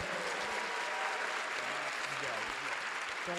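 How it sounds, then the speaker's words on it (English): A crowd at a university capstone design expo applauds an aerospace engineering team, a dense, continuous round of clapping with a voice speaking over it. "one more round of applause, everybody"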